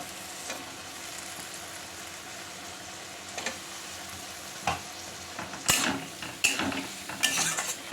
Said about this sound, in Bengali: এবার এই যতক্ষণ না তেল ছাড়ছে এই মশলাগুলোকে আমি এবার এরকমভাবে কষিয়ে নেব